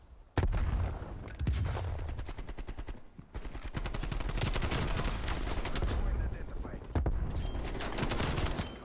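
Rapid automatic gunfire from a 74U in Black Ops Cold War on the Nuketown 84 map, loud sustained bursts with brief gaps, mixed with other game effects.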